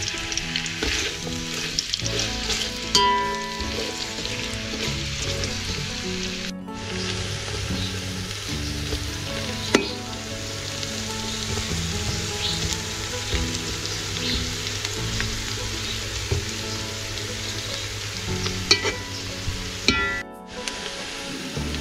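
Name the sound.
onions frying in oil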